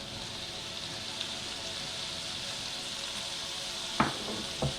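Crayfish with salt, pepper and soy sauce fry in a pan with a soft, steady sizzle, quiet and continuous, broken near the end by a couple of sharp clinks or taps.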